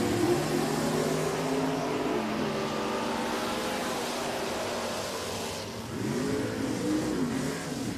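A drag race at a drag strip featuring the Outlaw 23T Bucket Roadster and dragsters, with loud, steady engine roar that holds for several seconds, dips briefly, then surges again as another car revs.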